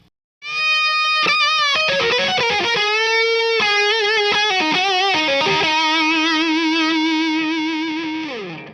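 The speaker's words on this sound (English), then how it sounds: "now let's do the BEOD lead tones" A distorted electric guitar lead through a BEOD overdrive pedal plays single notes and fast phrases with vibrato, ending on a long sustained note that slowly fades; loud, close, and played alone.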